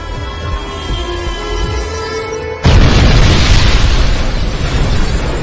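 In a film, after a few seconds of low tonal sound, a bomb suddenly explodes with a loud, heavy boom. A roaring, rumbling blast follows and keeps going to the end.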